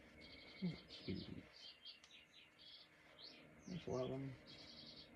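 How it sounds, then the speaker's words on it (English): Little songbirds chirp in quick repeated bursts at a moderate distance, while a quiet voice speaks briefly over them. "Little songbirds."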